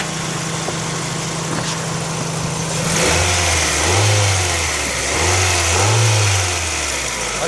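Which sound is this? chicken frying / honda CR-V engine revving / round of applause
honda CR-V engine revving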